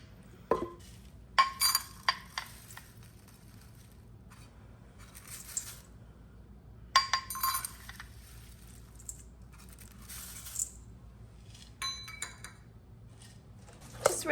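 Chopped vegetables being mixed into a bird's parrot chop, giving scattered clinks and scraping bursts of utensil against bowl, irregular and fairly close, with quiet stretches between them.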